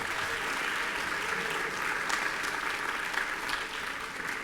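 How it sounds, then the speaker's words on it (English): Sustained applause from an audience at a school career education recognition and awards ceremony, dense steady clapping filling the room throughout with no pauses. "we need one more round of applause for our parents that helped get you all here"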